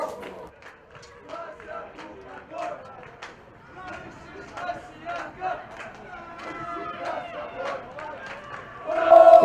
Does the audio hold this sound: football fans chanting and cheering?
yes